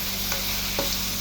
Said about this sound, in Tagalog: At haluin natin ulit.